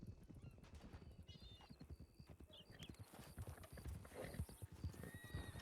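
Horses ride through a town in a Wild West roleplay game, dense overlapping hoof clip-clops with occasional whinnies and snorts, several animals passing at close to mid distance, quiet overall.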